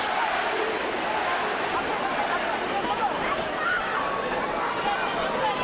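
Sold-out Las Vegas boxing arena crowd roaring in a continuous dense wash of cheering and chanting for Manny Pacquiao, loud and steady throughout with no breaks.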